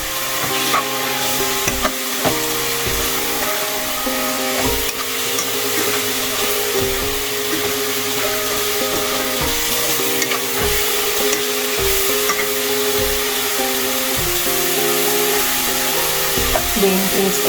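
A spoon stirs cashews into pineapple caramel prawn rice in a pan, with repeated scraping knocks against the pan over a steady sizzle, close and loud.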